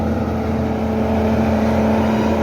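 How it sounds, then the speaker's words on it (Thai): A 210 diesel engine mounted on a corn chopper truck runs steadily at a constant loud drone with a strong low hum, with no voices over it. "อันนี้เป็นเครื่องยนต์210นะครับ"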